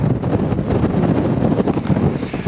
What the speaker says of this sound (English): Man, the wind is just whipping up here.